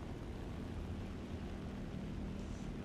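Steady low droning roar of an IL-2 ground attack aircraft engine in a flight video game, a constant dense rumble with no breaks and no talking.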